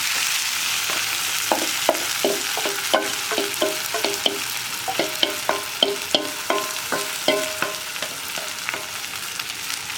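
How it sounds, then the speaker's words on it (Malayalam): A spoon scrapes rhythmically through a mixture of raw banana, onion and coconut in a pan for vanpayar kaya thoran, about twenty quick, close strokes over a light sizzle, with no talk. "ഇനി ഇതെല്ലാം ചേർത്തൊന്ന് നന്നായിട്ട് ഇളക്കുക."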